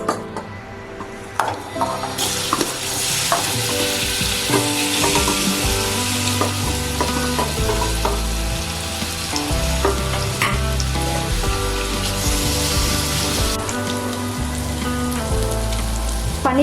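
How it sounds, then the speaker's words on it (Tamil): Paneer fries in hot oil with a dense, loud, crackling sizzle that runs steadily throughout, peppered with sharp spattering pops and occasional clinks of a utensil. "எல்லா பக்கமும் திருப்பி விட்டு நம்ம வந்து ஃப்ரை பண்ணி எடுத்துக்கலாம்."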